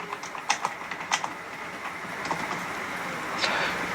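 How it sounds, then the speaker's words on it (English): Quick bursts of typing on a computer keyboard, entering text into a browser search bar, give close, crisp clicks that speed up into a steady patter. "in the search bar here, you need to type in download Windows 10 ISO."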